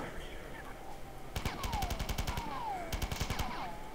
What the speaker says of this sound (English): it takes about 2 full clips of my assault rifle here to take one of those down.